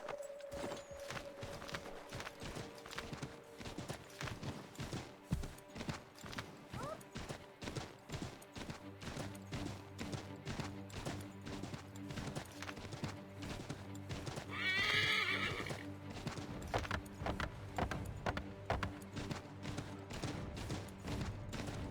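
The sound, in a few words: horse galloping and neighing in a video game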